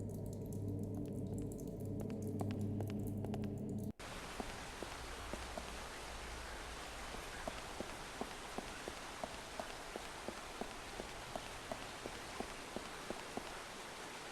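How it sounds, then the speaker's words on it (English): Water dripping in a cave in the video game Lost Horizon, a steady patter of small drops landing in quick irregular succession over a constant watery background, alone without voices. "I'll place the stone directly under the dripping water."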